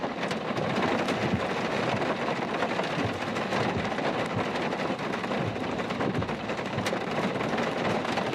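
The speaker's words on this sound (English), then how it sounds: "I will put on my lav mics so you don't hear so much of the rain" Heavy, unbroken rain pours during a storm chase in Minnesota, a dense close roar with faint thunder rumbling underneath and no voices.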